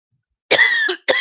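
A man coughs and clears his throat during a live stream: one close, loud, raspy burst after a moment of silence, then a second short harsh cough.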